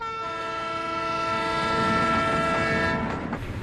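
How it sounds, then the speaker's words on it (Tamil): A departing train sounds a long, steady horn blast over a loud rumbling wheel-and-track noise, and the horn cuts off near the end as the rolling clatter carries on. "நல்லா கவனிச்சு பாரு, ட்ரெயின் கிளம்பிருச்சு"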